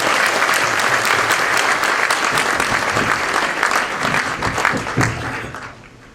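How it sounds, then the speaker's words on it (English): An audience at an Asian American Pacific Islander Heritage Month event applauds loudly and steadily, a dense wash of many hands that holds for several seconds, then fades out near the end. "Give them one last round of applause"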